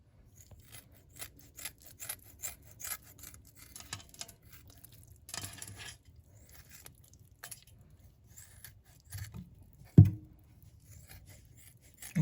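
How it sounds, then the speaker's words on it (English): A knife trims raw turkey wings with soft scraping and cutting sounds, faint and close, plus one sharper knock near the end. "You want to cut all of that off."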